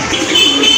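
Pigeons for sale at a seller's collection coo softly and continuously, close by, in a brief burst with no speech over it.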